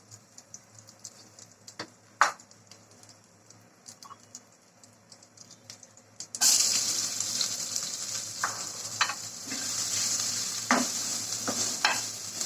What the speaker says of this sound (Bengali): এই তুলে নিয়েছি এই তেলেই দিয়ে দিচ্ছি কেটে রাখা পেঁয়াজ